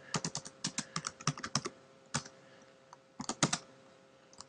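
Typing code on a computer keyboard: bursts of quick, crisp keystrokes with brief pauses between runs, close and fairly quiet, with no talking.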